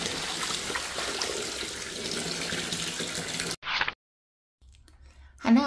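Wild garlic leaves are washed under a running kitchen tap, giving a steady loud stream of water. It cuts off abruptly, and brief splashes and a softer trickle follow.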